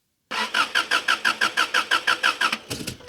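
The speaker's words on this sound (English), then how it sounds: "the car suddenly wouldn't start" A car engine cranks repeatedly without catching, about a dozen even, rhythmic starter whirs in quick succession, loud and close, trailing into a few weaker turns at the end.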